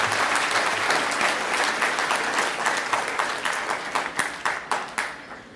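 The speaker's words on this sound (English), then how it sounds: "Please give a big round of applause to them." Audience applause at a conference opening ceremony, a dense burst of many hands clapping close and loud, thinning into separate fading claps toward the end.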